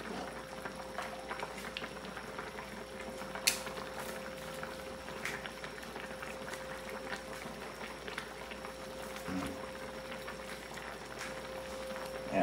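Sinigang with tambakol tulingan fish and vegetables boils steadily in a pot, a continuous bubbling simmer with no talk over it.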